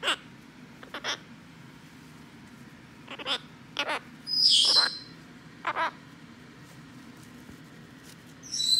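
Blue-crowned conure calling close by, with several short, sharp chirps and one louder, longer squawk spread unevenly through the clip over a quiet background.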